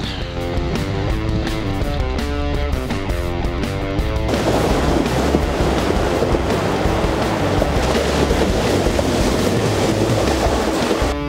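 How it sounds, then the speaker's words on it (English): A Subaru fords a deep creek. An engine labors loudly at first, then water rushes and splashes heavily around the car in a continuous roar. "Dodging the creek. Subaru-ing the creek. This is gonna be a little deep actually."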